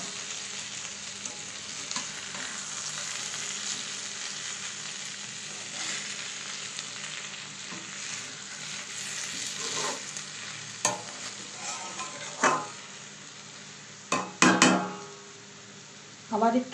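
Small chuno fish frying in oil in a covered pan over a low flame, giving a steady close sizzle with a few sharp clinks and stirring scrapes near the end.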